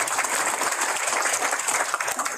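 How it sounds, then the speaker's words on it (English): Steady applause fills a room at a Guam legislature proclamation signing for Breast Cancer Awareness Month, with many hands clapping at an even level across the whole moment. "Keep those applause coming from the 37th Guam legislature"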